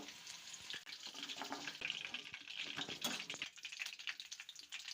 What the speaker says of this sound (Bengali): প্রায় ভাজা হয়ে গেছে, এগুলো এবারে ছেঁকে তুলে নেব।